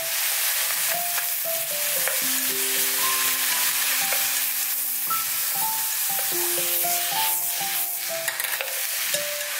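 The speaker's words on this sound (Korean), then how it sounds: "중약불에서 볶아주세요" Zucchini stir-fried over medium-low heat gives a soft, steady sizzle up close, with light stirring scrapes beneath a melody of music playing over the cooking.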